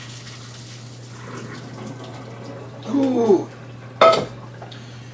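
Boiled pasta water is poured off from a metal pan in a home kitchen, giving two short bursts of splashing and pouring over a steady low hum, with a brief exclamation from a person.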